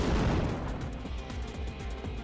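Flash Cannon attack from the Pokemon X video game: a booming, blast-like burst of sound with dense low rumble, loud at the start and then sustained and fading slightly over a couple of seconds, with no talk.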